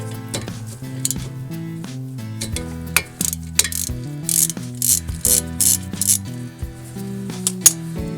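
A ratchet wrench works a 14mm brake caliper bolt loose on a 2005 Toyota Corolla front brake, its close, steady clicking running in quick bursts with metallic clinks and no talking.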